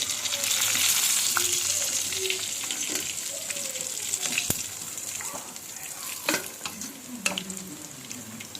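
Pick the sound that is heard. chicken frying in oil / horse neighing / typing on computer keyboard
chicken frying in oil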